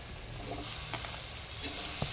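Tomatoes sizzle in a hot pan of frying chole masala, a soft, steady hiss with faint crackles and a light stir near the end.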